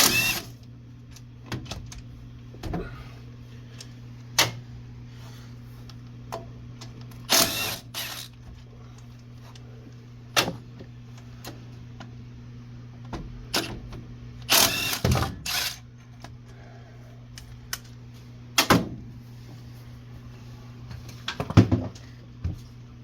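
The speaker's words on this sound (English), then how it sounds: "now we're going to pull 3 bolts out of the front that anchor this thing to the bracket" Bolts come out of a power steering pump bracket on a 1996 Ford F150, with scattered clicks, ratchet ticks and metallic clanks over a low steady hum. The sounds are close and irregular.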